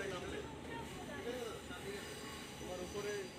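Metro train running, a steady rumbling ride noise with faint squeals of the wheels, heard from inside the carriage under faint voices.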